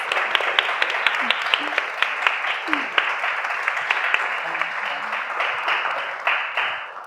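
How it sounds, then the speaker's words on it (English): Audience applause at a design conversation event on conscious creativity, a steady dense patter of many hands clapping for about seven seconds, with faint voices rising briefly beneath it. "I think we should give us all a very good round of applause."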